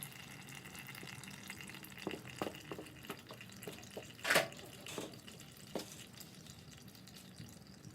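Engine oil from a 2017 Yamaha TTR 125 dirt bike finishes draining, leaving sparse, quiet drips and one louder splash against a low background hush.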